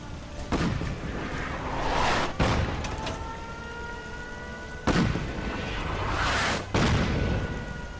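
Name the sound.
gunfire and explosions in the video game Fallout 4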